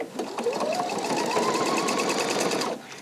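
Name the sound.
Pfaff sewing machine sewing ribbon stitches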